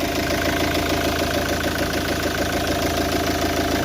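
A car engine idles steadily after a catalytic converter replacement, an even, rhythmic mid-low rumble with a regular pulse, close and unbroken for nearly four seconds with no talk.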